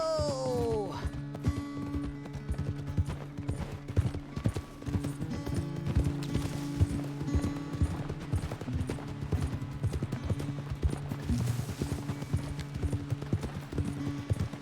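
Horse hooves clip-clopping steadily in the Red Dead Redemption 2 video game, a rhythmic trot running throughout under light background sounds.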